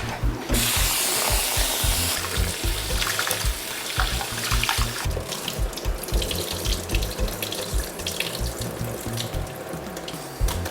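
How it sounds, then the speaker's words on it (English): Rice is washed in water in a kitchen, heard as a steady close splash and trickle of running water with stirring and swishing throughout and no talking. "So let's wash the rice."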